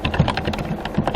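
Quick keystrokes on a computer keyboard as a command is typed into a Linux Ubuntu terminal: a short run of close, crisp clicks in an uneven rhythm, with no voices.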